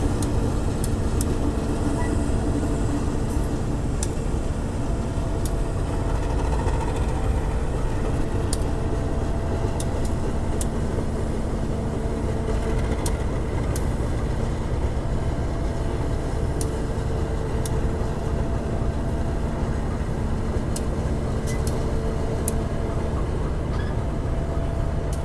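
A diesel locomotive from the Ijen Express idles at the Bangil station turntable, its steady low engine rumble continuous and fairly loud throughout, with no talking.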